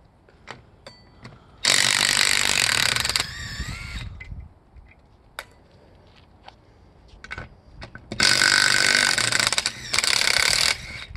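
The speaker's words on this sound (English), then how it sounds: "So we're going with the medium size gun." A DeWalt 20 V brushless cordless impact wrench removes wheel nuts from a Humvee's paired-stud wheel, firing in two loud, close, rattling hammering bursts of about two seconds each, with clinks and handling noises between them.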